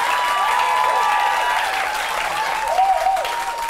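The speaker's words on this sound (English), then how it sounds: "You're not clapping well. Come on." A studio audience at a Nigerian panel discussion on tenancy and rent regulation claps steadily and loudly throughout, with a faint voice briefly sounding near the end.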